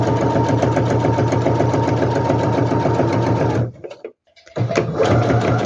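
A sewing machine runs fast and loud while stitching the fabric lining of a handbag, breaks off briefly for a quiet moment of handling, then starts stitching again.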